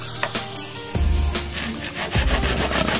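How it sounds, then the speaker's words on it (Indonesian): Corn cobs rubbed firmly against a grater to make fish bait, a rhythmic rasping scrape repeated in strokes about a second apart, close and fairly loud with no voices. "Jagung nih diparut sampai halus."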